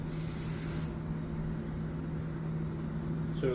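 Short hissing burst of spray lubricant applied to the door weather stripping of a 1979 Ramcharger truck, close and brief, followed by quiet background hum.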